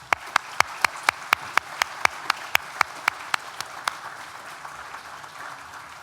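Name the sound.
applause at graduation ceremony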